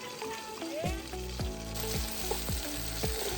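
Marinated chicken sizzles and fries in a pot with onion and tomato for chicken biryani, a steady close crackle broken by several sharp metallic stirring scrapes of a spoon against the pot.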